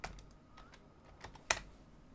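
Typing on a computer keyboard in a Linux terminal: a few quiet, irregular key clicks, with one sharper louder tap midway.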